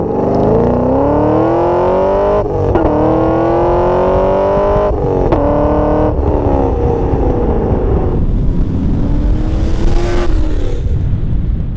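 A modified car, a turbocharged Miata or a 2011 Camaro SS, accelerates hard through the gears, its loud engine note climbing steadily, then breaking sharply at each of several shifts before pulling again, close and continuous.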